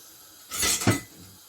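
A lid settles onto the spaghetti pot in one brief metallic clatter and clink, close and moderately loud, then quiet.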